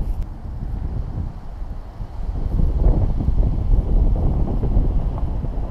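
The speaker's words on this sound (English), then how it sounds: "We've got a little bit of wind up here" Wind gusting across a West Virginia mountain summit while backpacking, a steady low rumble that grows louder and rougher after the first couple of seconds, with no talking.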